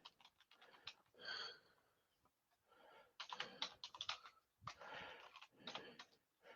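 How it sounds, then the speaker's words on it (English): Quiet keystrokes on a computer keyboard as an email address is typed in. Short bursts of rapid clicks come in uneven clusters with brief pauses between them, close and soft, with no talking. "I will type it in, as a matter of fact"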